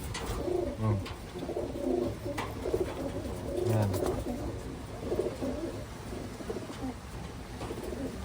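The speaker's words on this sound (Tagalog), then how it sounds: "Yan yung ibon." Repeated soft cooing of pigeons or doves, steady and close, with a few brief bird calls mixed in over background noise.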